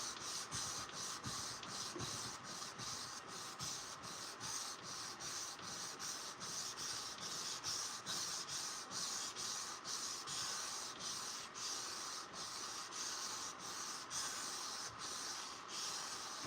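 Hand sanding of a wrought iron and high carbon steel blade with sandpaper: steady, faint, rhythmic back-and-forth rasping strokes, roughly two per second, continuing evenly without talk.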